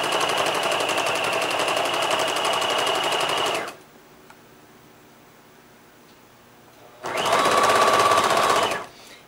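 Sewing machine stitching seams on a ragtime quilt, two close runs of fast, even needle chatter separated by a few seconds of near quiet.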